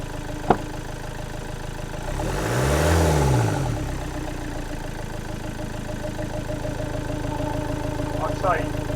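A car engine idles steadily at close range, rising in a single smooth rev and settling back, with a brief click near the start and faint talk over it.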